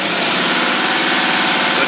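An outboard boat motor runs again after a fuel restriction, a steady close mid-pitched idle with a fast, even pulsing throughout.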